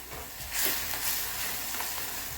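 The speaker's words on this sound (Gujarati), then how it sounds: "થોડીક વાર ગ્રેવીને તળવા દેવાની છે," Soft, steady sizzling of tomato gravy frying in a pan, fairly quiet, with faint scraping as it is stirred.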